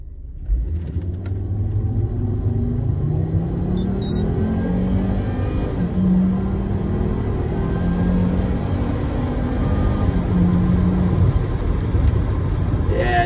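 A 2004 Volvo V70 2.5T with a turbocharged five-cylinder engine accelerates hard from 0 to 100, loud close engine drone rising through the gears with clear pitch climbs and brief dips at shifts, sustained over thirteen seconds.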